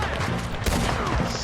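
Rapid gunfire in the Western video game Red Dead Redemption 2, dense overlapping shots crackling continuously in a loud shootout with a few heavier blasts standing out.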